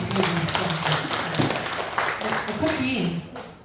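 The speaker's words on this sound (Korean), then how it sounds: "저희 박수 한번" Listeners at a poetry reading give a short round of clapping, loud and close, mixed with voices talking over it before it fades out.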